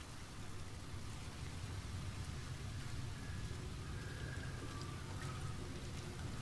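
Steady rain in the No Man's Sky video game, a dense, even hiss that fills the whole stretch at moderate level, with faint tonal game sounds drifting in the background and no talking.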